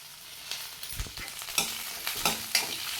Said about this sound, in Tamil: கூடவே நம்ம கட் பண்ணி வச்சுருக்கிற தேங்காயை சேர்த்து நல்லா வறுத்துக்கலாம்